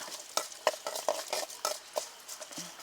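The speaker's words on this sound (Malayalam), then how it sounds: "ഉഴുന്ന് അണ്ടിപ്പരിപ്പ് ഒന്ന് കളർ മാറി വന്നിട്ടുണ്ട്" Urad dal and cashews fry in oil for Kerala semiya upma as broken dried chilli goes in, with a spatula tapping and scraping the pan in a quick irregular rhythm over a light sizzle.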